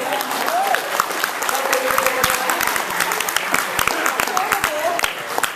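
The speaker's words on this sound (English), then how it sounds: "let's give everybody a round of applause" Audience applause at a training event, a lively mix of clapping hands with cheers and voices calling out through it, fairly close and sustained for several seconds.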